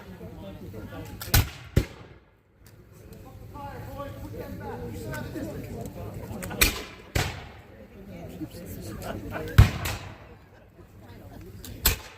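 Muskets fire at a battle reenactment, with several sharp, scattered reports at irregular intervals, some louder than others, over a background of crowd chatter and voices.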